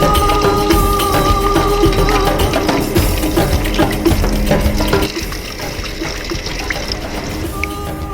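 Water from a tap runs steadily while meat is washed for Balochi sajji, a continuous close splashing gush that softens slightly partway through, with small clatters mixed in.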